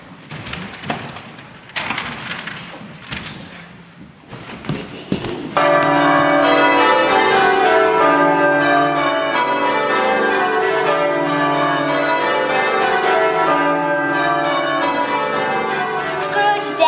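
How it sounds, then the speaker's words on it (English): Church steeple bells ring out for a Christmas service, a loud, sustained cascade of overlapping peals that begins suddenly after a few seconds of quieter knocking and rustling sounds, then rings on without pause. "outside the bells of the steeples were calling good people all for church and chapel"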